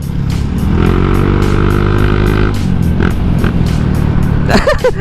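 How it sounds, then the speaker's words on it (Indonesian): A Honda Vario 125 eSP motor scooter's exhaust rumbles steadily and loudly up close, a deep idling throb that briefly blips near the end. "Suara knalpotnya ini loh"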